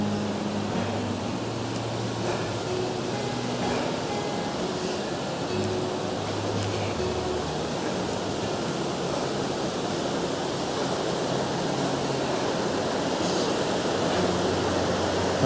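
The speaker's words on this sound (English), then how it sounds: "I'm just looking over here, cracking wee waterfall across the way." A small waterfall across a river at the Hermitage in autumn, heard as a steady distant rushing wash with faint intermittent tones and no talking.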